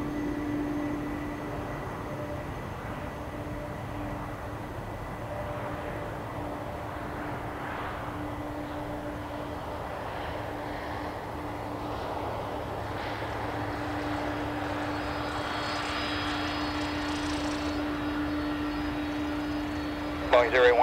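Boeing KC-46 Pegasus jet taxis at an airfield, making a steady, moderate whine and rumble with a constant tonal hum throughout, while radio voices talk over it.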